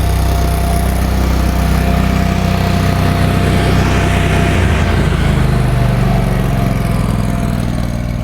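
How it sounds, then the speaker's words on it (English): ESAB Ruffian 270 engine welder idling, heard from a distance outdoors as a steady, continuous low engine drone with wind noise and no pauses. "I'll kick it down to idle mode so we can hear it from a distance at idle."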